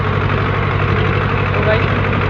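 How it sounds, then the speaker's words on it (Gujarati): A mini Swaraj tractor engine runs at a steady idle, a continuous close, even rumble with a regular low throb and no pauses. "તો ગાઈસ આપણે સ્વરાજ ચાલી રહ્યું છે"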